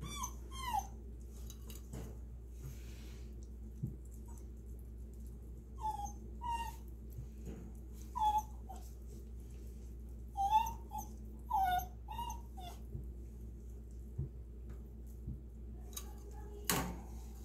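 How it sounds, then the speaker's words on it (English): A puppy shut in a crate whimpers and cries softly in short, scattered bursts over a low steady hum, with a few faint knocks between the whines. "the puppy in the crate next door is crying just a smidge"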